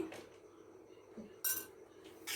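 A metal arati plate handled while oil is rubbed onto it, giving three faint, separate metallic clinks and scrapes nearby in an otherwise quiet room.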